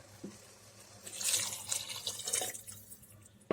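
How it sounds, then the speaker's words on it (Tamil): Water poured into a simmering chickpea curry, a soft splashing pour that rises and continues for a couple of seconds before tapering off, close and moderately loud. "இந்த ஸ்டேஜில் நம்ம தண்ணி சேர்த்துக்கலாம்"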